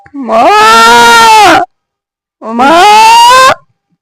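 A person imitating a deep, thick goat bleat, two long wavering calls of over a second each, separated by a brief pause, loud and close.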